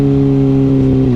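A Kawasaki Ninja ZX-6R 600cc sport motorcycle engine drones loudly and steadily at high revs toward 16,000 RPM, a sustained close whine with no pauses.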